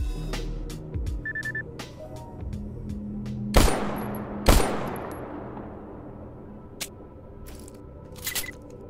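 Gunfire from the STALKER GAMMA survival shooter game comes as a run of sharp shots and clicks. Two loud, close blasts stand out with long ringing tails, and lighter scattered cracks and mechanical clicks follow.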